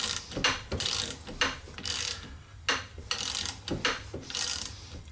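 A 24-inch breaker bar ratchet works on a Honda Accord lower control arm compliance bushing, clicking in several distinct bursts of quick pawl ratcheting, close and clear, separated by short pauses.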